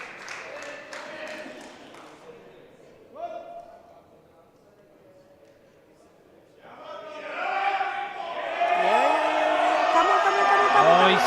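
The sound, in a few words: audience cheering for a Swedish powerlifter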